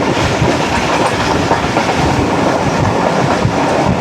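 Pak Business Express train running on rails between Rohri and Karachi, heard from inside as a loud, steady rumble with continuous clickety-clack of wheels, no speech.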